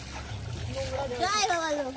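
Water is poured over someone's head during a visit to Baba Lokenath, making a soft, steady splashing and trickling beneath close, continuous talking.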